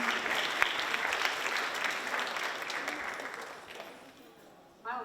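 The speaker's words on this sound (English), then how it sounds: "can we get one more huge round of applause for Shriya, Lakshmi, and Sunita" An audience applauds after a Kuchipudi dance performance with full, sustained clapping that gradually fades over several seconds, then a voice begins speaking at the very end.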